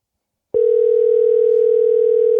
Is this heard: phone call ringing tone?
yes